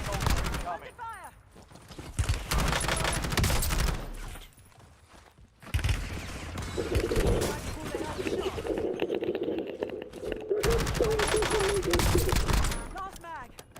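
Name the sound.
gunfire in the video game Warzone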